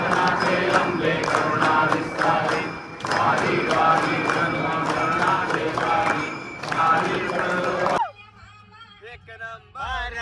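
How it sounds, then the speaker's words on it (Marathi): A large, packed crowd at the Ganpatipule Ganesh temple during the aarti, with loud, dense rhythmic clapping and voices filling the space. The roar drops off suddenly to sparse nearby talking. "तर गाईज खूपच गर्दी आहे"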